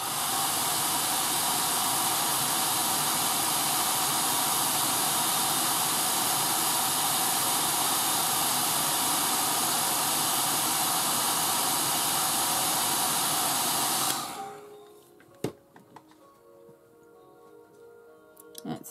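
A heat gun blasts hot air onto a small piece of metal clay to dry it, a loud steady hiss that runs unbroken for about fourteen seconds, then cuts off, leaving faint clicks and handling sounds.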